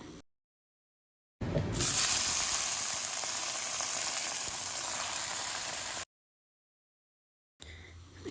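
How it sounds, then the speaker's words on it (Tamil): Gongura leaves sauté in a hot kadai, giving a steady, close hiss of sizzling that runs for several seconds. Silent gaps cut in before and after it, and no one speaks. "அதே கடாயில் க்ளீன் பண்ண கீரை சேர்த்துக்கிறேன்"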